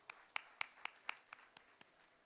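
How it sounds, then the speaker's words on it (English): Applause from an audience for dignitaries at a World Environment Day summit, a thin scatter of about eight separate claps spaced roughly evenly, fairly faint and fading out. "Can we have a huge round of applause for our dignitaries"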